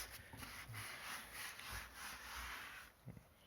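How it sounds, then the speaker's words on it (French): Cleaner being rubbed back and forth on the glass of a fireplace insert, a steady close scrubbing rasp in repeated strokes, briefly pausing near the end. "Voilà, je frotte, je frotte, je frotte."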